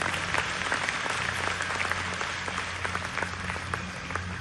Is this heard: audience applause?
yes